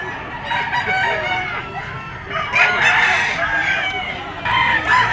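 Gamefowl roosters, including a red Kelso, crow repeatedly at the Grotto pet market, with loud overlapping cock-a-doodle-doos and clucks close by. Human voices are heard underneath.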